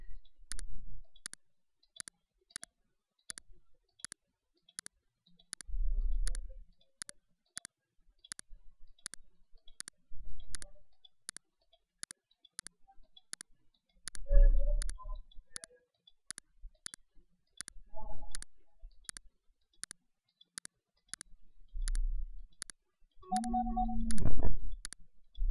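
Computer mouse clicks while selecting parts in Solidworks: a steady train of sharp, evenly spaced clicks running throughout, close and clear, with a few soft low thumps and rustles between them.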